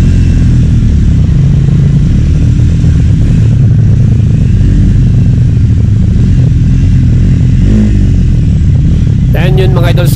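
A 2024 Triumph Speed 400 motorcycle engine revs steadily up close throughout, its low rumble rising and falling under a rider's talk.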